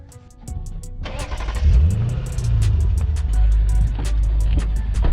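A Lexus IS F sedan fitted with TEIN coilovers starts off and pulls away, its engine rising in a revving sweep and then settling into a steady rumbling drone, close and loud, with no talking.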